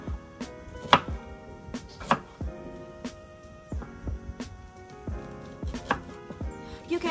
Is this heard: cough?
no